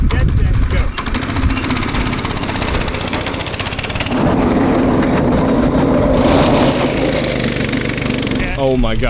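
A homemade three-seater go kart's small engine roars steadily at close range, pulling loud and unbroken as it sets off, with a brief change in pitch partway through and people talking over it.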